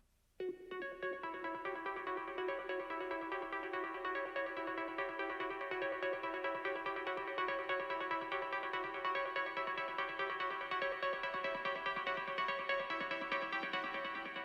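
A synth arpeggiator plays a fast, steady melody of bright repeating notes. It runs continuously and evenly at a moderate level with no voices.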